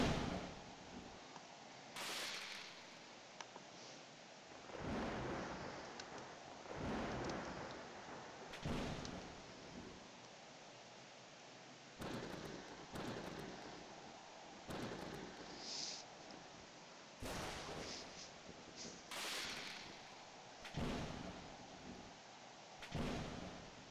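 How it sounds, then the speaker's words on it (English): Thunderstorm in the Roblox video game: repeated loud thunder cracks and rumbles every few seconds over a steady wash of rain, with no talking. "I kind of expected it to be thunderstorm"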